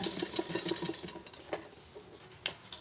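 A sewing machine stitching a blouse, faint and close: a quick rhythmic whirr of needle strokes at first, then thinning to a few isolated clicks and taps.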